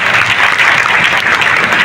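A crowd at a Marathi felicitation event for students applauds an actress, producing loud, dense, continuous clapping that fills the whole short span without a break.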